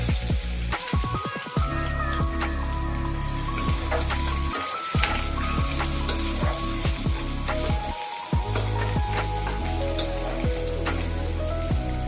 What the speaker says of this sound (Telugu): ఒక 2 నిమిషాలు వేగనిద్దాము. ఆనియన్ ఈ విధంగా వేగితే సరిపోతుంది.